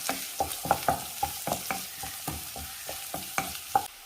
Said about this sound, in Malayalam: കൂടെ നമുക്ക് സവാള അരിഞ്ഞ് വെച്ചതും കൂടെ ചേർക്കാം. സവാള ഒന്ന് വാടി കിട്ടണം.